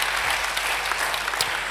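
A church congregation claps briefly and evenly, a dense burst of applause just under two seconds long at moderate loudness.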